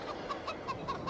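Chickens cluck softly and steadily in the farm simulator Farming Simulator 22 on the Elk Mountain map, a series of short, evenly spaced clucks over a faint ambient background.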